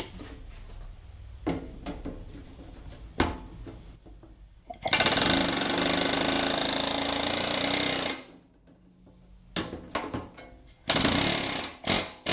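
An air hammer driving solid rivets rattles in a loud continuous burst lasting a few seconds, followed by scattered knocks and a second short burst of rapid hammering.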